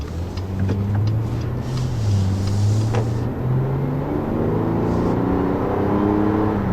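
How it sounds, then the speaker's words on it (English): A 2013 Acura RDX AWD with Tech Package accelerates on a test drive, its engine note rising and falling through gear changes under steady road and wind noise, heard from inside the cabin. "in terms of outright acceleration, this car actually feels just as quick as the old one did"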